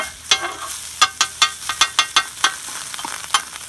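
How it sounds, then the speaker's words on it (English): Spatula scraping pork chop drippings and little browned chunks into a gravy pan, a series of sharp, close scrapes and taps in an uneven rhythm over a light sizzle. "All of that is going to go in the gravy pan. So let's scrape them in, huh?"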